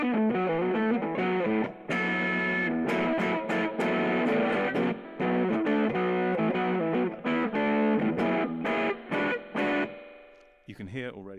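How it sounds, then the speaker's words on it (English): Electric guitar played through a slightly distorting amp turned up to about half volume, a run of strummed chords and picked notes with a gritty edge, loud and close, ending in a brief squeal of feedback and string noise. "You can hear already it's got some distortion in there."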